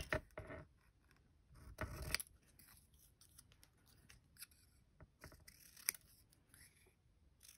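Scissors trimming paper for a junk journal, a quiet close series of crisp snipping cuts in short bursts, separated by soft rustling of paper.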